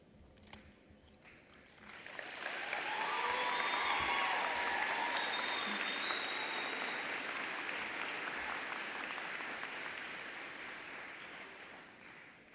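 Applause at a university college of social work commencement ceremony, swelling after a couple of seconds into broad, steady clapping from a large crowd with a few high whoops and cheers, then slowly easing off.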